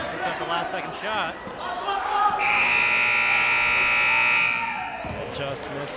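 A basketball game buzzer sounds at the end of a quarter during a boys' high school game, a loud sustained electronic tone lasting a couple of seconds over gym noise and an announcer talking.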